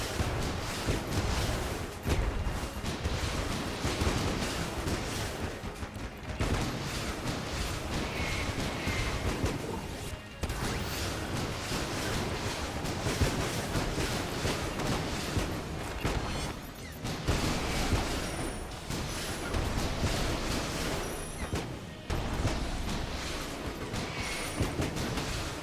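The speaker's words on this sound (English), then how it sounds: "Explosions are happening." Chaotic gunfire and explosions from the Enter the Gungeon video game, a dense continuous barrage of shots and blasts with only brief dips, loud and unbroken for the whole stretch.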